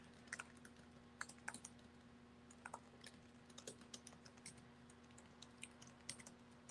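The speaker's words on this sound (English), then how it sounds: "So I'm just typing for a second, and I'll be right back, okay?" Someone types on a computer keyboard, producing quiet, close, irregular clicks and bursts of keystrokes over a faint steady hum, with no speech.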